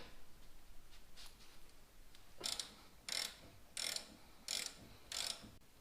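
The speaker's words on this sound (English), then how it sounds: "So we'll start by removing that bolt right there." Ratchet loosening an 18mm bolt on a Jeep XJ, five evenly spaced bursts of clicking in the second half, faint and steady after a quiet start.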